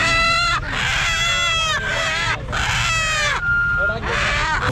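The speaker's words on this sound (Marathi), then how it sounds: "ओरिजिनलच्या कोंबड्या आहेत गावरांच्या" Village roosters crow loudly and close by at a large goat and sheep market in Chakan, Maharashtra, several long calls one after another, with other chickens clucking in the background.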